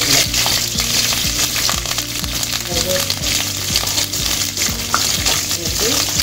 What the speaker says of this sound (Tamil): பூண்டு கொஞ்சம் வதங்கணும்